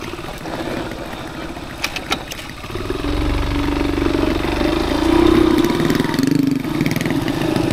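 A cub motorcycle on an off-road plantation track runs close by, its engine chugging at a low idle and then opening up into a louder, steady, buzzing drone that swells and eases, with no voices over it.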